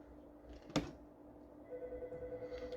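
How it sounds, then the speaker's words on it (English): A telephone rings faintly in the background, a soft thunk followed by a quiet, pulsing ring tone that repeats steadily toward the end, with no talking. "Sorry about the phone ringing in the background."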